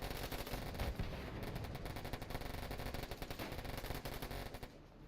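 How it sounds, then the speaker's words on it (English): Artillery strike in the Warfare Online video game: dense, loud rumbling gunfire and heavy blasts pound continuously for several seconds before easing near the end. "Drop an artillery strike just to speed things up a little bit."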